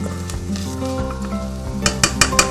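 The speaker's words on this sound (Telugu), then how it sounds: "సన్నగా తరుక్కున్న ఉల్లిపాయలు, ఇందాకే తరుక్కున్న వెల్లుల్లిపాయలు లైట్గా మళ్ళీ స్టర్ ఫ్రై చేసుకున్నాం." Thinly sliced onions and garlic stir-frying in a hot pan: a loud, steady sizzle, joined near the end by four quick metallic clinks of a utensil against the pan.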